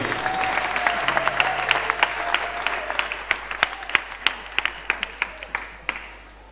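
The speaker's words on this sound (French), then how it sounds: "acclame encore plus fort" Congregation at a church service applauding loudly and steadily, dense rhythmic clapping that builds into sharper, more separated claps toward the end, with a faint voice underneath.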